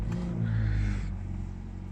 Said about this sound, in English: depress the clutch, press the engine stop start button